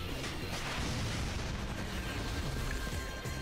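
Continuous heavy gunfire from the belly-mounted guns of an enemy machine in the shooter game Binary Domain, a loud dense barrage of rapid booming shots with no pause throughout.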